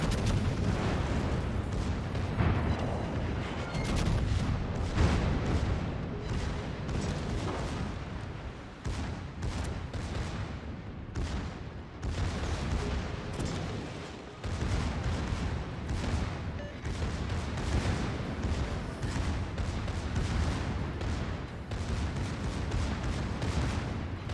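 Naval guns of the German battleship Pommern fire in World of Warships, with repeated heavy booms and rumbling blasts layered over a dense, continuous battle soundscape throughout.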